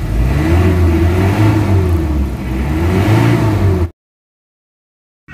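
Mitsubishi Adventure engine with low power, weak RPM, black smoke and vibration revs loud and close, its rough mid-pitched drone rising and falling twice before cutting off abruptly into silence.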